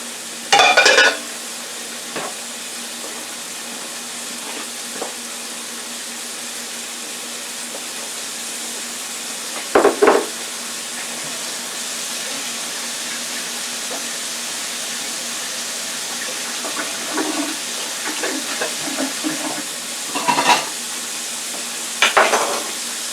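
Four steaks fry in oil in a pan, giving a steady, even sizzle throughout, broken by a few brief clinks and scrapes of utensils against the pan.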